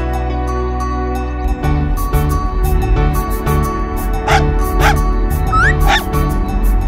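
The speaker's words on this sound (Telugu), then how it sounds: "ఆ రోడ్డు మీద ఒక చిన్న కుక్క పిల్ల ఉంది, అది కారు కింద పడేలా ఉంది." A small cartoon puppy on a road yips and whimpers in a few short bursts over a loud, continuous animated-film soundtrack of music and background effects.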